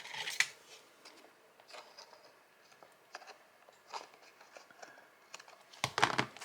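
Scissors snip through paper for a collage in a quiet room, a faint scattering of short crisp cuts and rustles spread unevenly, with a sharper cluster of snips near the end.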